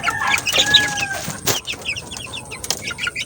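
Unvaccinated chicks at their feed, giving high thin peeps and chirps close by amid rustling and scratching, with one brief louder flutter in the middle.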